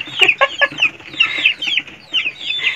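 Hens in a backyard henhouse shared with a duck cluck close by in quick, uneven bursts of short, bright calls with brief pauses between.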